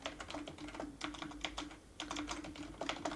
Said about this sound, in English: we're gonna just type in title